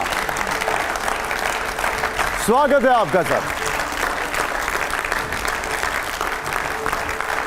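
Loud, sustained applause from an audience welcoming a guest, former cabinet minister and Kerala governor Arif Mohammad Khan, onto an interview stage; someone briefly speaks a greeting partway through as the clapping continues.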